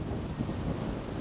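Wind gusts across a golf course at Marsh Landing Country Club, buffeting the microphone in a steady broadband rush with no other sounds.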